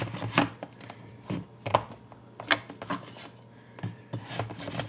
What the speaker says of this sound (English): So I'm just going to cut this apple as best as I can.